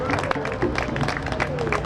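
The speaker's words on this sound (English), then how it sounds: "let's give him a strong round of applause" Crowd applause with clapping and cheering from an audience at a Newark, New Jersey commemoration of the 1967 rebellion, dense and sustained throughout at moderate loudness.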